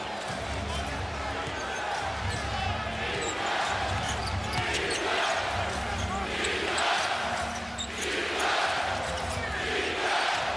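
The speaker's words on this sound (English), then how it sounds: "Loudest the crowd has been tonight." A basketball arena crowd roars during an NBA game between the Houston Rockets and Los Angeles Lakers, loud sustained cheering swelling in waves with a play-by-play voice talking over it.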